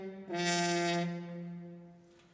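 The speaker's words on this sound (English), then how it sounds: "If I hand stop on the horn, it sounds like this." A single sustained hand-stopped French horn note with a buzzy, nasal, pinched tone, swelling quickly then slowly fading away.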